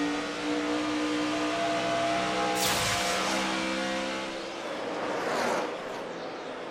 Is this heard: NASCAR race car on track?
yes